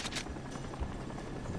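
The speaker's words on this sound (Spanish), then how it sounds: "Escucho un helicóptero muy cerca." A helicopter's steady rotor roar drones close by in the video game Crysis, joined by a few sharp bursts near the start.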